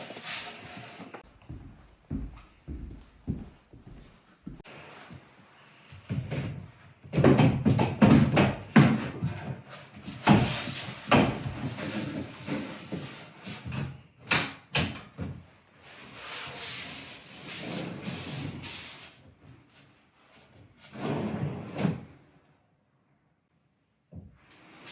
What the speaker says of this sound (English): let's go install a drawer.